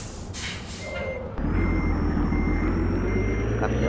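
A modded DAF truck in a driving video game: a hiss of air brakes, then the engine's loud low drone joined by a steady repeating reversing beep.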